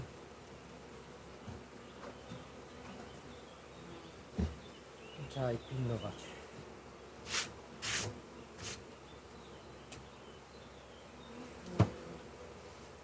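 Honeybees at an apiary hive during swarming season, a low continuous buzzing close by with a few louder passes, under occasional speech and handling noises.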